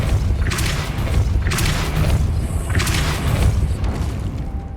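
In Hogwarts Legacy, the Depulso spell fires in three booming blasts, each a loud burst rising over a steady low rumble.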